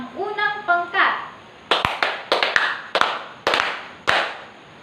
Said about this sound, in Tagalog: Bigyan natin ng 5 palakpak ang unang pangkat.